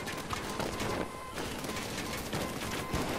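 Rapid automatic gunfire from a high-capacity machine gun in the heist shooter Payday 2, a dense continuous rattle of shots filling the whole clip at close range with no talking.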